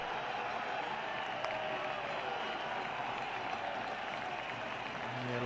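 Spectators at a 1999 Cricket World Cup match between Zimbabwe and India at Leicester applaud steadily in a broad, distant wash of clapping and crowd noise that swells slightly at the end.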